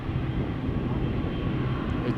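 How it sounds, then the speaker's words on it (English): A propeller aircraft passes overhead at Schiphol Airport, giving a steady, broad engine drone at moderate distance that holds through the whole stretch without any voices. "Also overhead something with a piston engine."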